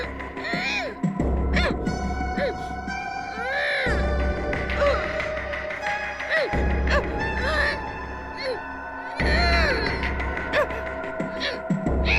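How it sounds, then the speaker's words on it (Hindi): Crying voice played back from a tape recorder in a room, wailing and sobbing in repeated swelling bursts over a steady low hum, slightly muffled. "रोने की आवाज इस कमरे से आ रही है"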